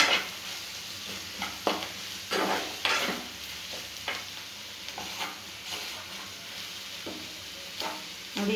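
Okra fries in a pan with chili, turmeric and coriander powder, a steady close sizzle broken by repeated scraping stirs of a spatula against the pan.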